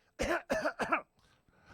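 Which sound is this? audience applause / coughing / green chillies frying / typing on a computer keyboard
coughing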